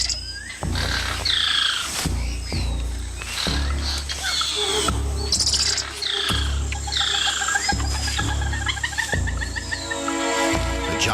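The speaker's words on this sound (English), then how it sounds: "A squirrel monkey spots a harpy eagle and sounds the alarm" A squirrel monkey in the Amazon rainforest canopy, spotting a harpy eagle, gives repeated sharp, high chirping alarm calls in quick bursts over deep rhythmic booms in the background.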